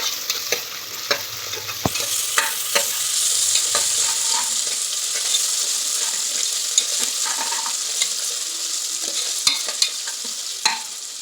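Onions with ginger garlic paste frying in a pan for a chicken curry, a steady sizzle with repeated sharp clicks and scrapes of a spoon stirring against the pan, no voices.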